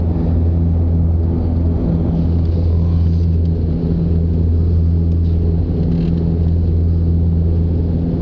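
Cabin of an Antonov airplane climbing just after takeoff, a loud, steady low engine drone and rumble holding constant throughout with no voices.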